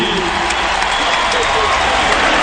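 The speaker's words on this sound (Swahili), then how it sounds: "Tuongeze makofi wananchi." Broad, steady crowd applause fills the scene at an outdoor Madaraka Day parade as a parachutist lands, continuous and loud with a dense wash of clapping, voices mixed in under it.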